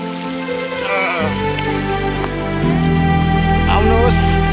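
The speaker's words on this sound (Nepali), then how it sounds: "हेर्नुहोस् खोला" The Jitti Khola mountain stream flows in a steady, rushing, rain-like wash of water close by, while faint voices carry over it.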